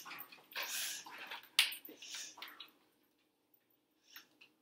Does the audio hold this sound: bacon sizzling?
no